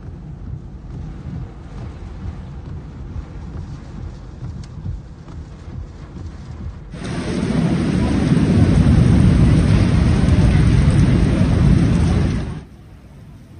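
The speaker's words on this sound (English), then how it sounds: "The video clips also recorded rain accompanied by wind and lightning, torrential water pouring down the street" Steady rain with a low rumbling wash in Makkah, Saudi Arabia, swelling abruptly into a heavy, roaring thunderstorm downpour with strong wind for several seconds before easing back.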